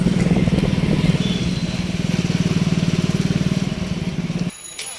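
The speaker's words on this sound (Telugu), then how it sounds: "ఒక బైక్ పైన ఫోర్ మెంబర్స్" A motorcycle carrying four riders rumbles steadily up close with a rapid pulsing throb, then cuts away abruptly near the end.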